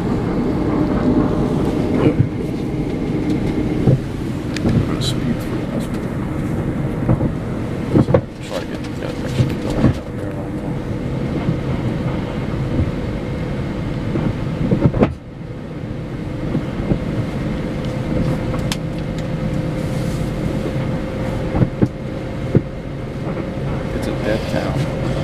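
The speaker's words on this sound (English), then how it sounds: "This is the train to Ronkonkoma." A Long Island Rail Road train to Ronkonkoma rumbles steadily along the rails with clicks and clunks of the wheels, loud and continuous, with occasional sharp knocks and a faint onboard announcement.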